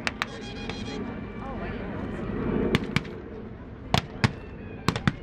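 Bazooka and gunfire in a World War II battle reenactment with tanks and half-tracks, heard from a distance as a string of sharp, separate bangs over crowd murmur and an announcer's commentary.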